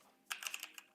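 Rapid burst of computer keyboard typing, about six crisp close keystrokes in under a second with no talk, during a Python algorithmic trading session.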